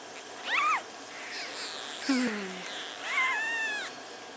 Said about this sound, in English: The little kittens.